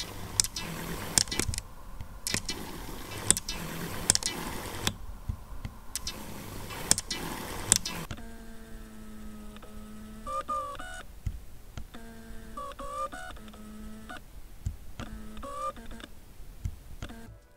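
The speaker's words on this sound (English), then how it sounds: "This is the sound the lenses make when they focus hunt, when they cannot focus due to the subject being too close" Nikon AF-S DX 18-55 VR II and AF-P DX 18-55 VR kit lenses focus hunting on a too-close subject: first loud, rapid ticking bursts of motor chatter, then quieter whirring sweeps with whiny pitched tones, close up and without talk.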